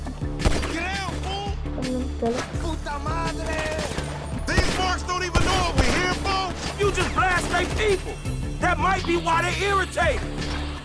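Gunfire bursts and headshots ring out in GTA V as scattered sharp shots under near-constant excited talk from players.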